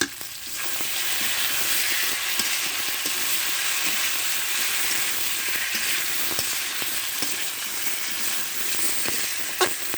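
Spices for a magur catfish curry, with meat masala added, sauté in a hot pan, giving a steady loud sizzle with frequent scraping and clicking of stirring throughout.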